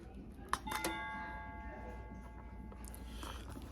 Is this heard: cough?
no